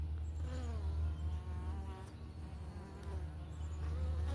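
Italian honey bees swarm around their hive on a morning check, giving a dense, continuous buzzing hum that is close and steady throughout.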